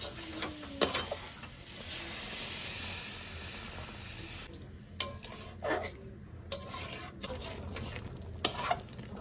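Ghugni, a boiled peas curry, cooks in a pan just after water is poured over the spiced peas. A steady, loud sizzling hiss fades partway, and sharp clinks of stirring against the pan recur.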